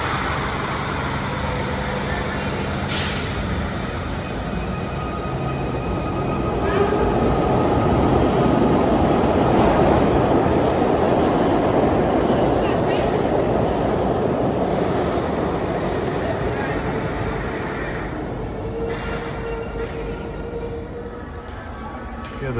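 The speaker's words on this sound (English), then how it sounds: "Got an uptown train coming on the express track." A Broad Street Subway uptown express train rumbles past the station platform on the express track, its roar building to a loud, sustained peak mid-pass and then easing as it recedes, with faint talk over it.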